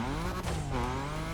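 In the racing video game The Crew Motorfest, a car engine drones and climbs in pitch as it accelerates. The tone is continuous and sweeping, with a faint hint of tire noise and no speech.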